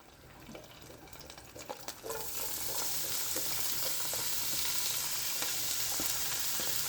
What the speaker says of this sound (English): we're going to add a little bit more olive oil to the hot pan, and we're going to add our onion and garlic